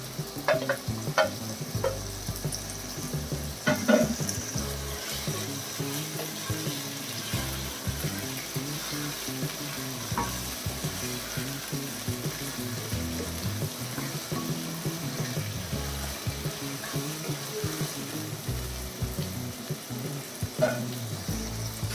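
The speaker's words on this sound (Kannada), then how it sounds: "ಕೊತ್ತಂಬರಿ, ಪುದೀನ ಆಡ್ ಮಾಡ್ಕೊಂಡು ಚೆನ್ನಾಗಿ ಫ್ರೈ ಮಾಡ್ಕೊಳ್ಳಿ." Coriander and mint leaves frying in a pan for an avarekalu rice bath, a steady close sizzle with repeated stirring scrapes throughout and no talking.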